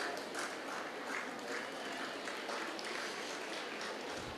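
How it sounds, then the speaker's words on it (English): Scattered applause from a small audience of about ten or twelve people at a school event, a soft, thin, continuous patter of clapping heard from some distance. "I'm very grateful for the 10 or 12 people who are clapping"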